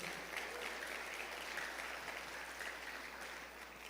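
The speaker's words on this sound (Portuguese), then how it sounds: "Pode aplaudir ao Senhor nessa manhã." Steady applause from a church congregation fills the whole stretch, a dense wash of clapping heard at a distance and easing off slightly near the end.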